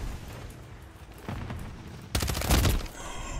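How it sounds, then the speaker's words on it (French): Call of Duty: Modern Warfare 3 gunfire rings out in a rapid automatic burst after a few lighter shots, loud and close, with no talk over it. "Mais j'ai tiré au-dessus de sa tête"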